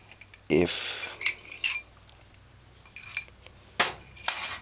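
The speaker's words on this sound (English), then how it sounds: "you stir up this flour mixture and you add that too as well" Spoon scraping and clinking against a pot while flour mixture is stirred into peanut porridge, a few short bursts separated by quiet pauses, with a faint voice nearby.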